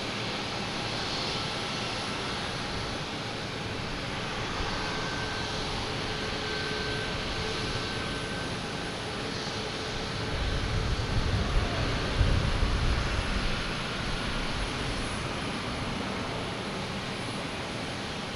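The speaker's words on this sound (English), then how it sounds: "Not as loud as the American 737, but you get a little sound from the engines." American Eagle regional jet at Boston Logan Airport: a steady, broad engine roar with a faint whine runs throughout at moderate distance and swells slightly louder near the middle as the aircraft passes.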